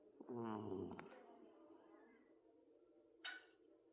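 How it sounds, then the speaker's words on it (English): A dog snores softly nearby in a few raspy, breathy pulls. A short snort-like burst follows after a quiet gap, and it is all very faint. "Do you see yourself? You snoring?"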